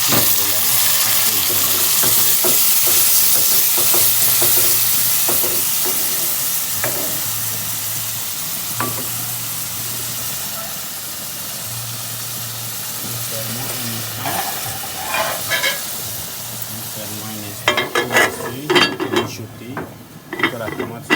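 Onion, chili and tomato frying in a pan while a Cameroonian dish is cooked, a steady sizzle with intermittent stirring and scraping clatter, growing busier toward the end, with brief speech.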